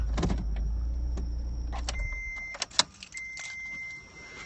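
A car passes close by on a road, a steady low engine rumble that fades after a couple of seconds, followed by light clicks and jangling near the mic.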